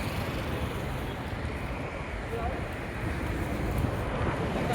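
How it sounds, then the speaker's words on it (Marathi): Strong wind on the Lonavala ghat roars steadily into the microphone as a dense, low rumbling buffet that never lets up, fairly faint overall and slightly swelling toward the end. "वारा सुटलाय भरपूर."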